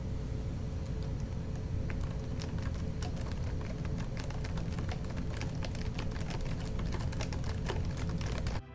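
Typing on the keyboard of an Eluktronics MAX-17 laptop, a quick irregular patter of soft, shallow key clicks running steadily throughout over a constant low background hum.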